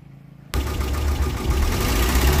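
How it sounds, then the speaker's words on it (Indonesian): Suzuki Carry ST-100 engine starting up after a half-second of quiet and then running steadily, with a close, continuous low drone and a slight rattling knock blamed on worn, thin piston rings. "Mesinnya juga ada ngeletrek dari ya mungkin dari ring sehernya yang udah tipis. Ada bunyi recek dikit"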